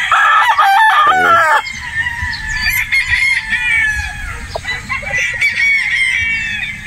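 Boston Black straight comb broodstag roosters crow loudly and close by, with a long strained crow followed by clucks and shorter calls amid farmyard noise.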